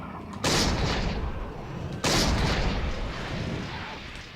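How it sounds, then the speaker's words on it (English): Two loud flintlock pistol shots from the Eternal Darkness video game, each a sharp blast followed by a long decaying rumble, spaced about a second and a half apart with no talk. "Flintlock pistol in 2013."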